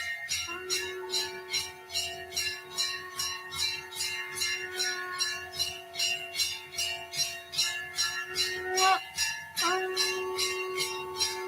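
Temple bells ring during worship in quick, steady repeated strikes, each bright metallic clang layered over a sustained ringing drone, clear and moderately close with no talk.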